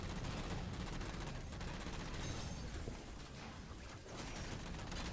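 Dense, continuous rapid gunfire in the Halo 4 video game as enemies are shot down, a constant dense barrage of bursts with no pauses, no talking.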